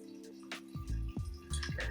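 Whiskey poured through a small funnel into a sample bottle, giving close, bubbly gurgling and dripping in several short bursts, loud and alone with no voices.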